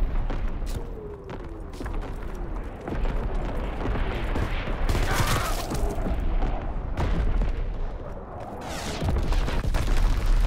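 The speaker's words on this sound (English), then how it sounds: "Incoming enemy artillery!" Artillery barrage in the Call of Duty WWII video game, a dense, continuous run of booming blasts and crackling gunfire over several seconds, loud and sustained with repeated heavy impacts throughout.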